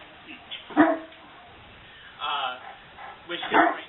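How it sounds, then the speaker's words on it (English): A large dog gives deep, intimidating barks: one loud bark near the start, then two more separate bursts later, fairly close, against a quiet background. "very deep, intimidating bark"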